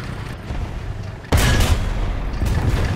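A single loud, booming tank cannon shot from an M4 Hybrid in War Thunder, striking abruptly after a low rumbling lull and followed by a sustained roar with a fainter second report.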